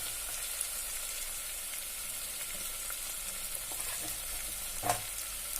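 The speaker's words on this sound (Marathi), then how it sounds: "आता याच्यामध्ये आपण घालूयात बारीक केलेलं खोबरं" Grated coconut sautéing in a pan for kat amti, giving a steady soft sizzle and frying crackle with a faint stir or scrape near the end and no voices.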